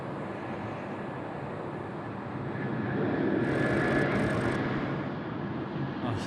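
Airliner rolling for takeoff on runway 16 right at Sydney Airport, a broad jet engine roar swelling as it passes at a distance, then easing slightly.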